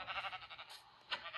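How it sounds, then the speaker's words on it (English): A video game sheep bleats in a wavering series of quavering calls, then gives one shorter bleat after a brief gap, heard alone and moderately close. "A sheep, okay."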